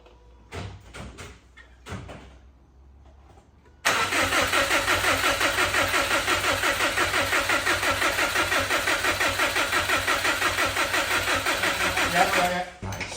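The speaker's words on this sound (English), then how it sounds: "it doesn't sound very knocky when it's just the starter motor turning" Engine of a rare Prodrive Subaru WRX on a GB270 restoration: after a few quiet knocks and faint voices, a steady starter motor cranks the engine with a loud, fast, even rhythm for about nine seconds before stopping.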